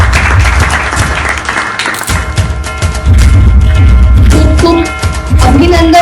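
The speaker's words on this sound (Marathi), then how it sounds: "योगेश्वरी जोरदार टाळ्या झाल्या पाहिजे" Award ceremony audience at a Maharashtra speech contest clapping for a first-prize winner: dense, loud applause from a crowd, swelling after a brief dip and continuing throughout.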